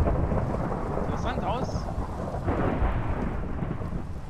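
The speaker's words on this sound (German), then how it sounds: "Ich hasse Gewitter. Ist immer so laut." A thunderstorm rumbles through the video game Minecraft, a loud, steady roll of thunder over constant rain hiss, with a brief voice speaking near the start and a second swell of rumble midway.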